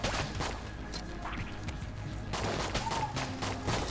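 Rapid gunfire in the Enter the Gungeon game, with dense bursts of shots and impacts over a busy stream of game sound effects, growing louder in the second half.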